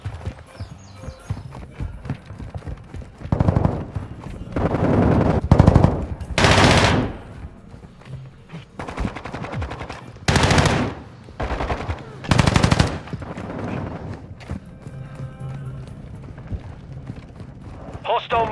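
Submachine gun fire from an MP7 in the video game Call of Duty: Modern Warfare II comes in several loud, close bursts over a rumbling battlefield backdrop, with voices speaking between the volleys.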